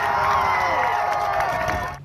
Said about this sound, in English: You could hear the cheers erupting in the crowd.